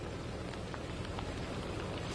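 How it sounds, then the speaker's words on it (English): Freezing rain falling steadily in Spring Township, Berks County, a dense, even hiss of drops with no gaps, fairly loud and constant throughout. "Now, the rain has picked up just a little bit in the area."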